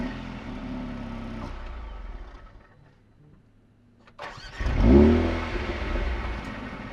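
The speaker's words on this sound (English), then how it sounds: "Revs higher and the exhaust valves are open" A 2020 Mercedes-AMG A35 hot hatch fires up with its exhaust valves open: a low idle rumble fades, then a loud, close start flares into a sharp rev before settling into a throaty idle, with no talking.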